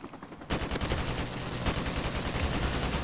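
Sustained automatic gunfire in Call of Duty Modern Warfare Remastered, bursting in suddenly after a brief quiet moment and rattling on as steady, dense shots with no talk.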